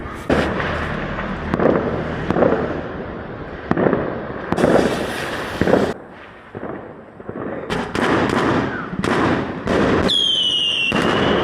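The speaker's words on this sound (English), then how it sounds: "This is the biggest firework we've got." A large firework exploding during Chinese New Year celebrations in rural China, a loud rapid volley of booming bursts and crackling pops that runs continuously, with brief whistling rising streaks near the end.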